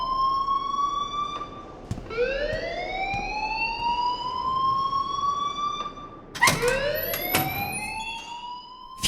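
A loud rising electronic alarm wail in the game Life Is Strange repeats in long upward sweeps, looping twice with a sharp restart, under a steady background hum and no talk.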